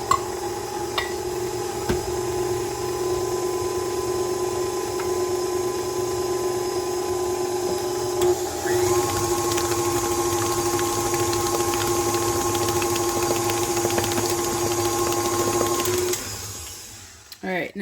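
Batter with buttermilk added being beaten by an electric mixer, a steady motor whine that shifts pitch partway through, close and continuous, then cuts off near the end.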